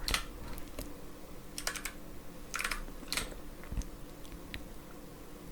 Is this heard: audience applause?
no